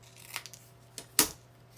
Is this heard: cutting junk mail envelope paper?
yes